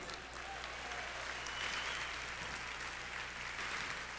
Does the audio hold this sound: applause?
yes